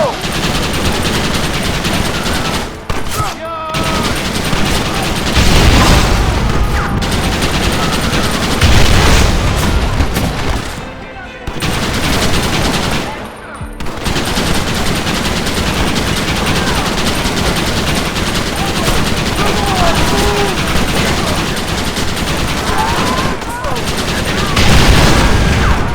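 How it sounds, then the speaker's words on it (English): Gatling gun in the video game Red Dead Redemption fires in long, loud, sustained bursts with booming impacts. Two brief pauses break the roar. "You man the Gatling gun, Marston!"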